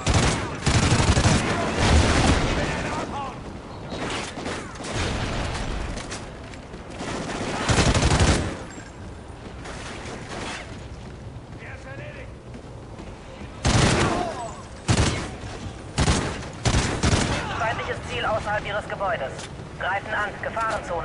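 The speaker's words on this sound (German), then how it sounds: "Ich schieße auf alles, was unwichtig ist." Dense gunfire from the video game Call of Duty: Ghosts, with loud bursts of automatic fire and explosive blasts that come and go over a constant battle background, while someone talks in between.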